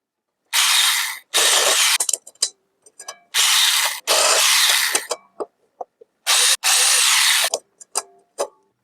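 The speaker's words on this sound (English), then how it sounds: "a countersink attached to the electric drill" An electric drill fitted with a countersink bit whines in repeated bursts of about a second each, spaced by short pauses and small clicks, close and loud in a quiet room.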